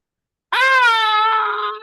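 A single loud, drawn-out scream, voiced by a player during a tabletop role-playing game session, cuts in abruptly after silence and holds as a wailing, tonal cry before trailing off.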